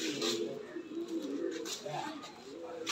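Pigeons coo softly and repeatedly in a pigeon loft housing many breeds, including pouters, with a faint low murmur of calls and light background noise.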